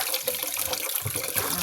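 Running water splashing over mangoes being washed by hand, a close, continuous rushing and trickling with small uneven splashes throughout.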